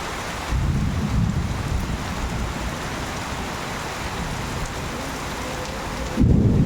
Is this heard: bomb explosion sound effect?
no